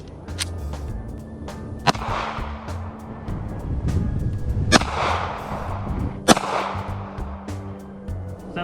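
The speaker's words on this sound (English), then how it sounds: "I haven't shot this gun yet, so I feel like there's gonna be a lot of kick because it's pretty light." Shots from a light gun fired outdoors, three sharp cracks spaced a few seconds apart, each trailing into a broad rumbling echo, with wind and faint background noise in between.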